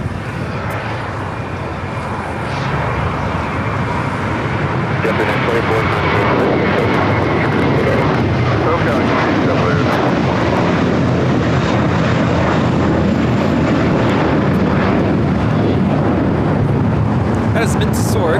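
A JetBlue Airbus A321 takes off at LAX bound for JFK, its jet engines a loud, sustained broadband roar that holds steady throughout, with voices talking over it.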